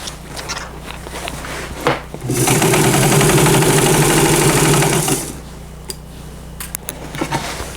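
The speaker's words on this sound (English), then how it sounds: "now I'm sewing flat up to this point where this pin is right here" A sewing machine stitches fabric for a custom dress form, running in one steady, loud, continuous burst of about three seconds, with quiet handling sounds before and after.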